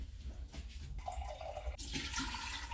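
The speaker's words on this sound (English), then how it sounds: "And then I'm gonna put some water at the bottom of that." Water is poured into the bottom of an Instant Pot fitted with a rack, a short close gush and splash that shifts tone partway through, with no talking over it.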